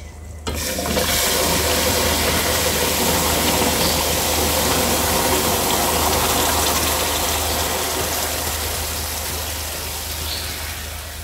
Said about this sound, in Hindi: अब हम थोड़ी थोड़ी इसमें चाशनी ऐड करेंगे।